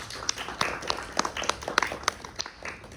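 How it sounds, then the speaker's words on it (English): An audience at a panel discussion claps for a panelist: scattered individual claps in an uneven rhythm rather than dense applause, moderately close and fading toward the end. "A big round of applause for Divya"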